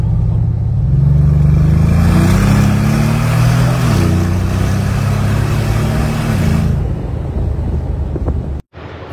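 Engine of a 4x4 driven on a smugglers' trail in Andorra, a loud, close, steady drone that rises and shifts in pitch as it pulls, with heavy wind rumble, cutting out abruptly near the end.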